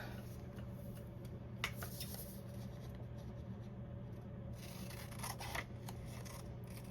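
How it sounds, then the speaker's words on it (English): Scissors snip through paper in quiet, sparse cuts while squares are trimmed for small folded coin pockets. Each snip is faint, close and sits in a hushed room. "in order to get that perfect square, you got to cut them up like this"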